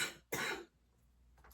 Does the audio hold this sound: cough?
yes